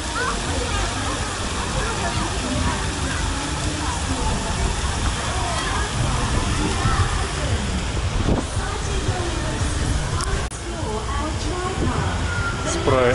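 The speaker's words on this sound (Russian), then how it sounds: "Здесь мелкий бассейн для самых-самых-самых маленьких." Water splashes and sloshes continuously in a shallow children's pool at The Land of Legends water park in Turkey, a dense, steady outdoor wash of sound with people's voices mixed in.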